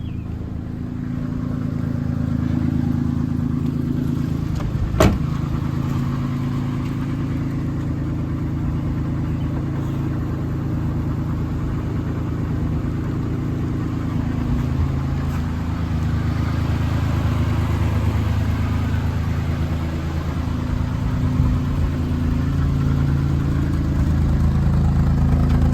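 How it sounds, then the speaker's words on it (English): A 1972 BMW Bavaria's engine idles after a cold start, a smooth, steady low rumble that stays even throughout with no voices over it. "Down to a nice smooth idle now."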